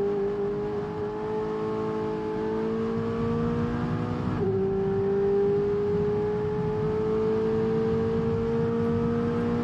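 An F1 racing car in the F1 22 video game accelerates hard, engine whine climbing in pitch, dropping briefly at a gear change, then rising again, loud and continuous.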